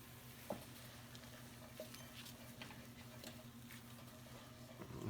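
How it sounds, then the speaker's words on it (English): Chili ingredients stirred in a hot pan, a steady low sizzle with faint scraping and a couple of soft clinks of utensil on cookware throughout. "And now I stir."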